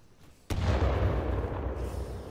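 A grenade blast in the video game Titanfall 2 hits as a sudden loud boom about half a second in, then rolls into a sustained rumbling decay with no speech over it.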